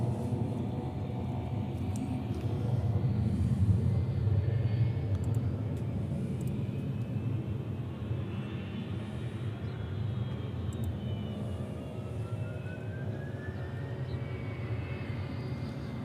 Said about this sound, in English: The next one we had out is a Qantas. It's a 330 heading back to Melbourne.